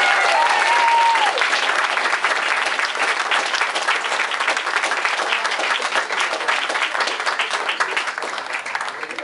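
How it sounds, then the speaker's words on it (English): A crowd at the Dan'l Webster gives a loud, sustained round of applause, dense clapping filling the room steadily for the whole stretch and fading only slightly toward the end, with no talking over it. "Let's start off with a huge round of applause for the folks here at the Dan'l Webster for"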